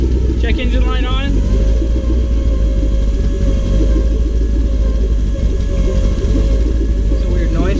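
A car engine idles roughly just after a twin turbo kit install, a loud low rumbling drone with uneven stuttering pulses and brief whistling tones near the start and end.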